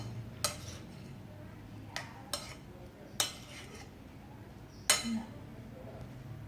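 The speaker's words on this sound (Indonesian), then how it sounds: "Terus kita aduk-aduk ya biar si garamnya tadi merata gitu" Spoon clinking and scraping against a pan while stirring sambal jengkol, a chili and jengkol bean relish; a handful of sharp, separate metallic clinks spaced irregularly over a soft, low background hum.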